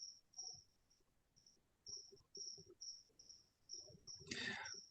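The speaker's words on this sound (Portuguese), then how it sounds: "Esse barulhinho de grilo." Cricket chirping indoors in an office, a steady faint series of short high pulses, with quiet knocks and a brief louder rustle near the end.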